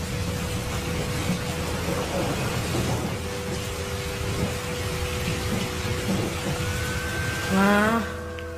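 Heavy rain hisses steadily, close and loud, with a low rumble beneath and a short rising whine near the end.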